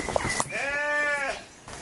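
One drawn-out, wavering bleat sounds close by, preceded by a brief shorter call and faint background noise.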